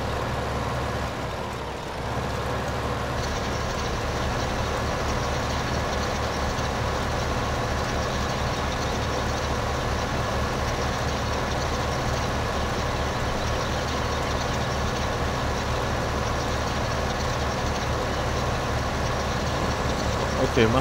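Small tractor engine laboring in Farming Simulator 2015, a steady droning rumble that runs loud and unbroken for about twenty seconds, with a brief dip near the start.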